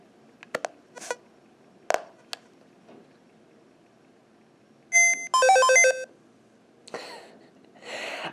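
Custom-made Pokédex switched on, giving a few scattered clicks and short bleeps, then a bright rapid run of electronic chime tones, followed by a softer closing burst.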